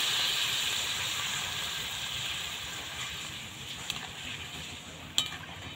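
Water poured into a pan of kohlrabi curry frying with slit green chillies gives a steady, close sizzling hiss that holds for several seconds, with a couple of brief sharper pops near the end.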